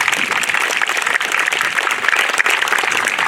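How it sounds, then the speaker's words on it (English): Crowd applause at a 9/11 memorial ceremony in Acushnet, a dense, steady clapping that holds at full strength for the whole stretch without speech. "please give yourself a round of applause"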